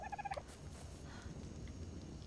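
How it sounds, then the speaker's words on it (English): Dodo in ARK: Survival Evolved lets out a quick burst of gobbling, turkey-like clucks at the start, then fades into a quiet ambient background. "Hey, Justin, there's your little bird."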